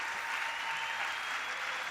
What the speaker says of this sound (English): I hate that they clap at everything.